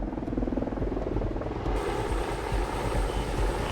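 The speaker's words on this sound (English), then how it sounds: "the path should now be clear for Spanky and helicopter number 2 to make the pickup" A military helicopter flies in for a pickup during a special operations rescue in Afghanistan, its rotor thudding in a steady, loud, dense chop that fills the whole clip with no voices.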